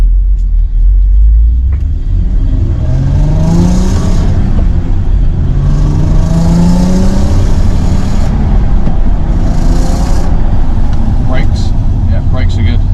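The 3.2-litre engine of a restored barn-find VW Golf R32 revs up in three rising, raspy surges over a constant low rumble, loud and close.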